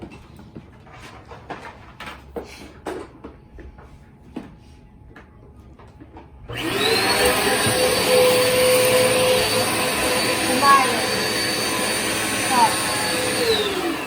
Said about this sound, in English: we need to vacuum this carpet